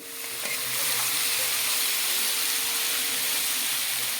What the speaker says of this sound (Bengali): দেখো কড়াইতে ঢেলে দিয়েছে মাছগুলো